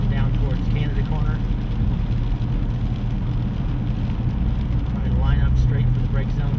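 Race car at Road America flat out in top gear above 170 mph, with a loud, steady engine drone and wind roar filling the cockpit while someone talks over it.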